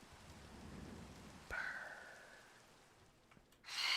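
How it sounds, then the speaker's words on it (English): Rain patters in a Minecraft world, a soft continuous hiss broken by a sharp tone that fades away and a louder bright burst at the end. "The rain's gonna go bye-bye, but who cares?"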